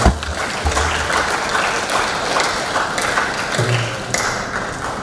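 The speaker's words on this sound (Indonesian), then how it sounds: "Berikan tepuk tangan kepada mereka ya." At a boarding school graduation ceremony the audience applauds the teachers, loud continuous clapping filling a hall, with a few low thumps from handling or a microphone mixed in.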